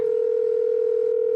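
A telephone line sounds one steady, unbroken tone, clear and close, for over a second before stopping abruptly.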